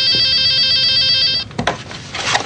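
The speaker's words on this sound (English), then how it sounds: "Don't answer the phone." A telephone rings insistently in an office, its bright electronic trill steady and loud for about a second and a half before it cuts off and a few muffled bumps and rustles follow.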